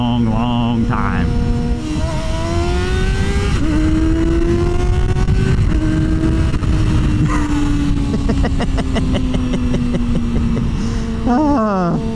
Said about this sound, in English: I haven't had a inline 4 that screams like this in a long